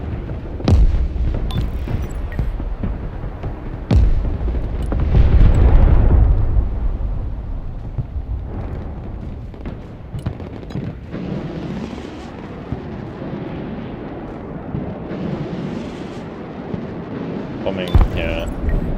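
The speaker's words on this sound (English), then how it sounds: "Bombing, yeah." Heavy bombing explosions in the military strategy game Broken Arrow, with deep booms and rumbling blasts recurring across the scene, one large sustained eruption near the middle, over constant battlefield noise.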